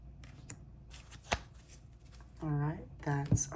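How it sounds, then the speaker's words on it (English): Tarot cards are shuffled close by in soft riffling bursts, with a voice speaking briefly over the shuffling. "while I'm shuffling and choosing your cards"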